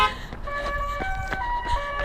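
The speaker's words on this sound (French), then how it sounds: "c'est la klaxon de la Tesla" Tesla car horn playing the La Cucaracha melody outdoors during a virtual half-marathon run, a tonal sequence of short rising and falling notes over background street noise.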